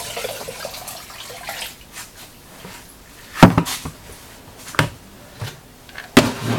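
Liquid Shino glaze mixture poured into a container in a pottery workshop, giving a soft watery splashing that trickles on with a few sharper knocks and clatters of the vessel.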